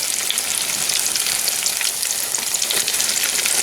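Food frying in a pan of hot grease, a steady, dense sizzle that stays loud and even throughout with no talking.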